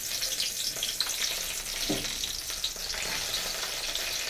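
Garlic stalk bases fry in a pan with a steady, dense sizzle throughout, with a brief scrape of stirring near the middle and no voices.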